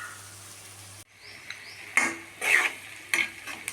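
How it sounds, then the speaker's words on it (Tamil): Garlic frying in hot oil with mustard seeds for a Tamil garlic pickle, stirred with a metal spoon: a steady low sizzle broken by a few sharp scraping clinks against the pan. "பூண்டை ஊற்றி போட்டு இந்த எண்ணெயிலே வேகணும்"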